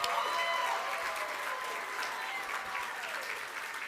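An audience at an awards ceremony for a braille competition breaks into sustained applause, a dense steady wash of many hands clapping, with some voices mixed in.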